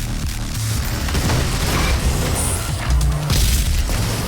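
A weapon firing in DOOM (2016), heard as a heavy, sustained booming blast with deep rumbling bass and crackling bursts, loud and continuous with a few swells.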